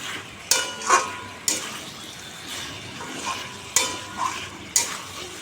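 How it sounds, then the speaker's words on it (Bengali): Chicken and potatoes being sautéed in a pan for a home-style chicken curry: a soft, steady sizzle with intermittent scraping and stirring clatters every second or so, close by with no talking. "দিয়ে এবার ভালো করে আরও কষাবো, 5-10 মিনিট কষিয়ে তারপর জল দিয়ে দেবো"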